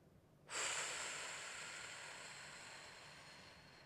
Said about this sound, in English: Open-mouthed exhale for 6.